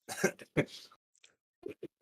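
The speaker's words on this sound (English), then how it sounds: "and makes me cough apparently" Two or three sharp coughs, loud and close, come from an adult during a card-game discussion podcast, followed by a brief pause and a couple of softer throat sounds.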